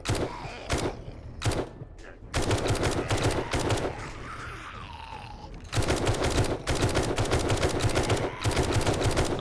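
Gunfire in the game 5 Days to Die, close and loud, with single shots spaced out at first and then rapid repeated bursts in steady rhythm over a dense background.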